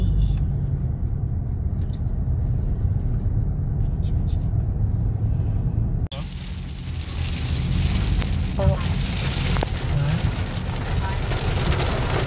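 Heavy rain falling on a car driving near Tagaytay, a steady hiss and drumming of raindrops over road rumble that grows noticeably louder and denser halfway through.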